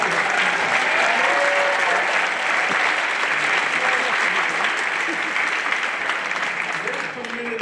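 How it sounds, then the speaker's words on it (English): Steady, dense applause from a big crowd at a community political event honoring a senator, loud and continuous with occasional shouts and voices mixed in, easing slightly at the close. "Let's give him a big round of applause."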